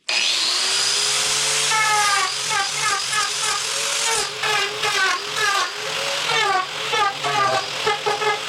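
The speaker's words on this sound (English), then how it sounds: "I'm going to use this shaping tool to round the edges a little bit" Arbortech power shaping tool rounding over the edges of a wooden campfire furniture piece, a steady loud high-pitched grinding whine with rhythmic rasping pulses as the cutter bites the wood, running continuously throughout.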